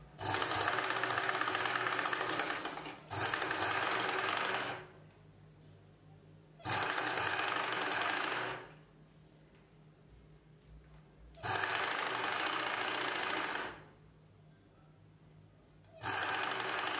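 A sewing machine stitches the folded edge of blouse cloth in four loud, whirring bursts of a few seconds each, separated by quiet pauses, heard up close with no talking.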